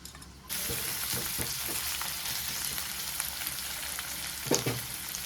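Chopped onion fries in oil in a pan as a loud, dense sizzle starts abruptly and holds steady nearby, with a few soft stirring knocks and no talking.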